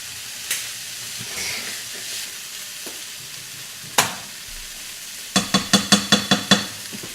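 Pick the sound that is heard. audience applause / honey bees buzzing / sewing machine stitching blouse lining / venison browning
venison browning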